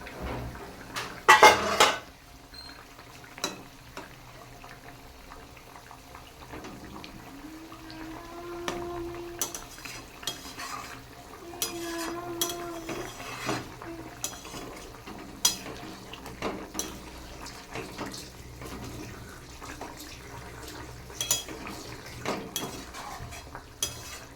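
A pot lid comes off and a spoon clatters and scrapes through potatoes and ridge gourd simmering in a pot for fish curry, with close, irregular metal clinks and soft stirring, no voices.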